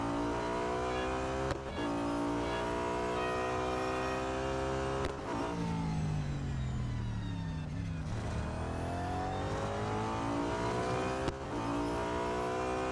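A small car in the Real Racing 3 racing game drives with a steady, loud engine whine that rises through the revs, broken by a few brief gear changes, with no talking.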